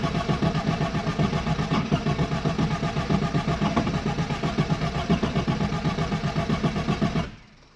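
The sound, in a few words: Arden 8-port engine cranking but not firing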